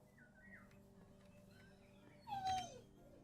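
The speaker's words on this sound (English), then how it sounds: "Does your dog need something?" A dog whimpers and whines with thin, high, wavering cries, a short louder whine near the end, heard over a low ambient background with no talk.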